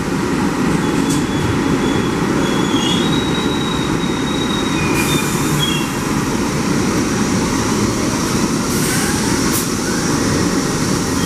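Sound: subway train arriving at station

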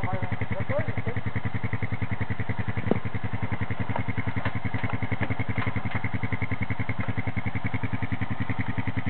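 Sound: motorcycle on muddy trail

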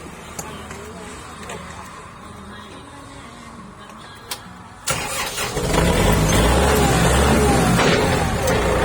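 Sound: used Kubota/Yanmar tractor being test driven

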